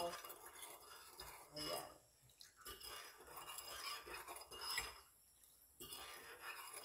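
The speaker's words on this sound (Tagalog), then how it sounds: "Haluin natin guys yung asukal. Kasi hindi pa siya tunaw." Utensil stirring sugar in a cooking pot while making escabeche na tangege, with soft scraping and clinking against the pot in irregular bursts, interrupted by brief pauses, and a voice speaking briefly over it.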